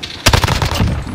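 Video game gunfire bursts in a rapid cluster of loud, close shots right after a brief quiet start, fading into a lingering tail.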